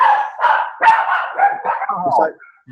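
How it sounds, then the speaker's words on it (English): A dog barks and yips indoors at home, several sharp close calls in an uneven burst, loud and alone, fading to a faint whimper at the end. "Besides my dog's barking"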